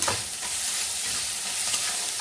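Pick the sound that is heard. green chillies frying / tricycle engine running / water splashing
green chillies frying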